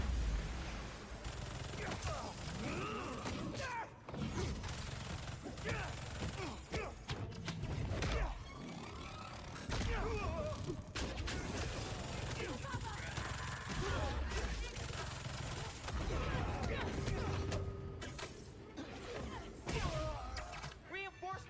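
Turrets fire in the Spider-Man 2 game as bursts of gunfire, thuds and mechanical clatter pile up in a busy, chaotic mix, with a voice speaking over the action.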